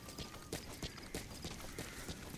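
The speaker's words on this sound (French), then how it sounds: "Comment je fais pour appeler le cheval là?" Horse hooves clip-clop in a quick, regular rhythm in the Metal Gear Solid V video game, fairly close and alone with no talk.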